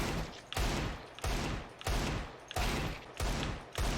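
Desert Eagle pistol fire in Counter-Strike: about six loud, close shots at a slow, even pace, each a sharp blast with a brief gap before the next.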